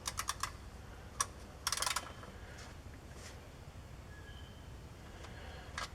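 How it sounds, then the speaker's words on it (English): A torque wrench set to 80 tightens bolts on a 2014 Silverado transmission pan, producing faint, sparse metallic clicks, some in quick clusters, against a quiet background. "we got the torque wrench set up to 80"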